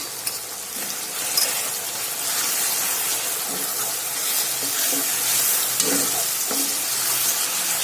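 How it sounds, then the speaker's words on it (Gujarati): An onion-tomato paneer bhurji mixture with crushed dried garlic sizzles and fries in a pan while being stirred, with a steady hiss and occasional soft scraping knocks; no talk. "બધું બરાબર મિક્સ કરી અને આપણે આને 2 થી 3 મિનિટ સાતળીશું"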